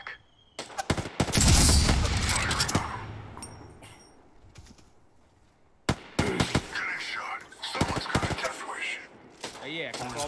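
Bursts of gunfire at enemies in Apex Legends, a loud volley followed by a long fading boom, then further sharp shots and rattling, with a voice talking over the action.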